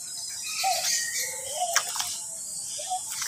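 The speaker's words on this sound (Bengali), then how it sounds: "অনেক সুন্দর সুন্দর পাখি, এই যে পাখি এগুলো অনেক কবুতর বা বিভিন্ন লাভ বার্ড, টিয়া পাখি" Birds chirp and call in short bursts over a steady bright background hiss, with a few cooing notes, moderately near, from pigeons, lovebirds and parrots in a garden aviary.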